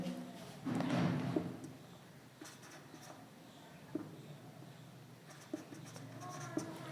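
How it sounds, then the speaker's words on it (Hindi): A thermodynamics equation about entropy is being written during a lecture: faint, sparse scratches and taps of writing come in a slow, irregular rhythm against a quiet room hum, after a brief stretch of voice near the start. "इसको लिखते हैं"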